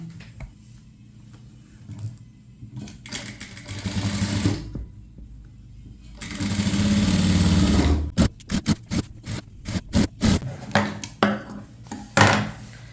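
Sewing machine stitching the neckline seam of a chudithar top at half an inch, loud close runs of stitching in several bursts, ending in a rapid string of short starts and stops.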